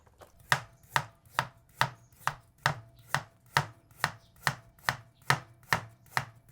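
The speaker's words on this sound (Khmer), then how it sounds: "ឥឡូវនេះយើងងាកមកហាន់បន្លែយើងទុកឆាលាយជាមួយមាន់" A knife chops vegetables on a cutting board for a chicken stir-fry, with crisp, evenly spaced strokes landing about twice per second, close and clear with no talking.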